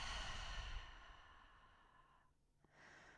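A long, audible exhale during a yoga session, one breath trailing off, followed by a faint start of the next breath, close and quiet with no talk.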